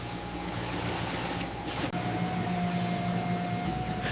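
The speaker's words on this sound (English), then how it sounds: "Sewing machines stitch, lock, and secure back heel strips." Industrial sewing machines stitching heel strips on black canvas shoe uppers in a footwear factory, a steady mechanical whir with a constant hum and a brief stop partway through.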